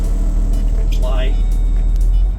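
A coach bus engine runs throttled up against an applied parking brake, a loud steady low rumble that holds throughout, with a voice faintly under it.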